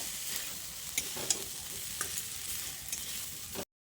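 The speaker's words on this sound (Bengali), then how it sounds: "আলুগুলো দিয়ে মশলার সঙ্গে আবারও বেশ খানিকক্ষণ সময় ধরে কষিয়ে নিতে হবে" Boiled potatoes sautéed with spices in a pan, a steady close sizzle with light scraping stirs and occasional clicks of the spoon, before the sound cuts off abruptly.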